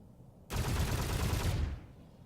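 Modded controller set to rapid fire in the Juggernaut 7.0 setup, producing a dense unbroken burst of video game gunshots lasting about a second, loud and close against a quiet background.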